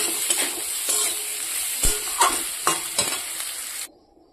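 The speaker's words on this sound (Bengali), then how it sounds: "এবার আলু ফুলকপিটার সঙ্গে ভালো করে মিশিয়ে নেব" Potatoes and cauliflower stirred into frying spices in a pan give a loud, continuous sizzle broken by scraping strokes and clinks of the spoon, then cut off abruptly near the end.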